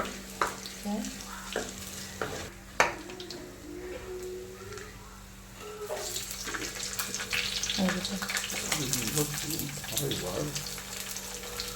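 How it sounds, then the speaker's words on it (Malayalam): Fenugreek seeds sizzle and get stirred in a hot cooking pan while a fish curry is made, with a steady fry, scattered scraping clinks and a louder hiss in the second half. "അതിലേക്ക് കുറച്ച് ഉലുവ ചേർത്തിട്ട് നന്നായിട്ട് ഇളക്കി കൊടുക്കുക"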